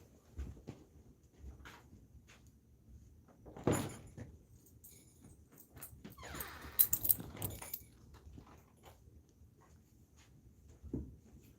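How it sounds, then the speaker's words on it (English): Keys jangle and an indoor door is opened, with rattling and a soft thud in a quiet room, at moderate loudness and with no talking. "Oops, someone's at the door. Who could it be?"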